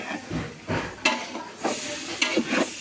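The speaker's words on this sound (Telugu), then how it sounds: "ఇంకా వేరే రైస్ కలుపుతున్నాడు." Rice being stirred into a shrimp biryani in a pot, heard as repeated scraping, shuffling strokes with a soft sizzle underneath, in an uneven rhythm at moderate, close range; nobody speaks.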